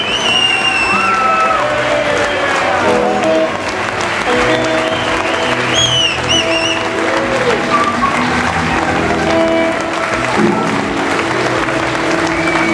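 Audience applause with scattered cheers and whoops for a singer at a blues concert, loud and sustained throughout, with music tones and some voices mixed in.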